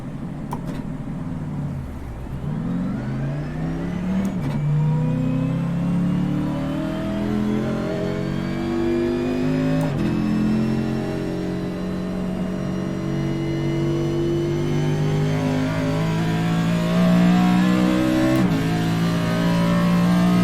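A race car engine accelerates on a track, its pitch rising in repeated sweeps as the driver gets on the throttle through a corner, a steady loud drone with brief shifts in tone and no speech.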